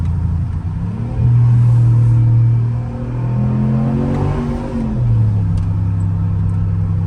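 A Ram TRX pickup truck driving along with a steady low engine drone that swells twice as it accelerates, carrying a faint light whine, with wind noise in the background.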